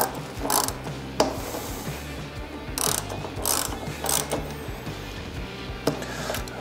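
A hand ratchet clicks in short bursts while tightening a bolt on a color-matched spoiler kit of a 2022 Harley-Davidson Road Glide ST. The pawl clatters repeat in close, fairly loud runs, separated by brief pauses.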